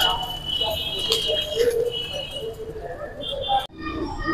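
Pigeons coo and flutter close by while eating grain, with soft pecking and scattered bird calls over a low background hum.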